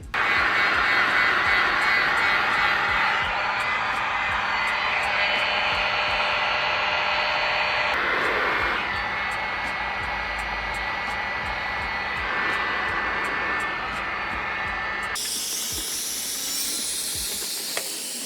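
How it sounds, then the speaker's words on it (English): A heat gun blows steadily as vinyl wrap edges are set, a loud continuous airy hiss with a faint hum that changes tone as it moves. "It's time to come back with the heat gun and set all the edges."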